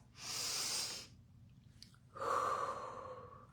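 A single slow breath, drawn in and then let out, close and soft in a quiet room. The inhale is a breathy hiss and the longer exhale carries a faint voiced tone.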